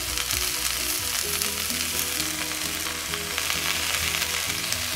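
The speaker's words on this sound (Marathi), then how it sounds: "पालक थोडा लूज होईपर्यंत त्याला ह्या वेजीज मध्ये फ्राय करायचा" A small bunch of chopped spinach fries among mixed vegetables in a pan for hara bhara kebabs, giving a dense, continuous sizzle that stays close and even throughout, with no voices.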